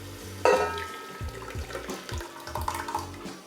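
Canned tomato sauce, two 28-ounce cans, pouring into a cooking pot, with a thick glugging splash at the start followed by several wet slopping pours.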